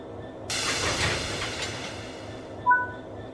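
A locomotive uncoupling from the first wagon in Train Sim World: a sudden broad hiss of released air that holds steady and then tapers, followed by a brief bright metallic chime near the end, with no talk.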